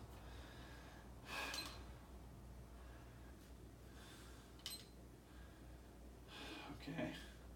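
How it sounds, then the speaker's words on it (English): Slow, deep belly breaths during a breathing exercise, three long close airy breaths spaced a few seconds apart, heard alone in a quiet room. "Breathing exercise."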